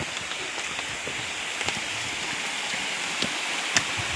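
A creek runs steadily in the countryside at night, a continuous close wash of flowing water with a few faint ticks and splashes on top and no talking.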